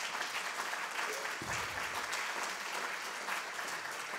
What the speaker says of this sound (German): Trotzdem, danke für den Applaus.